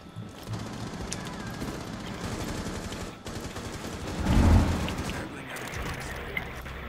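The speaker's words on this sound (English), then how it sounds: "Now that's what I call blind fire." Bursts of blind-fire gunshots from the Rainbow Six Siege video game, a dense rattle of game gunfire with one louder, heavier blast midway, under steady background game noise.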